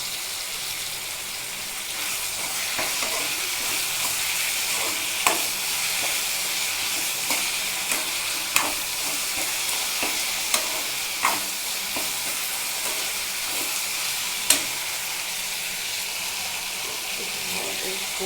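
Tomatoes with salt sauté in a pan for pirandai thuvaiyal, giving a continuous close sizzle with occasional sharp clicks of stirring across the whole stretch.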